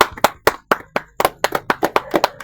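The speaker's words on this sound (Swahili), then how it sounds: "Tumpatie Yesu makofi." A church congregation claps in praise of Jesus, about a dozen sharp, loud, close hand claps in a quick, slightly uneven rhythm with no talking.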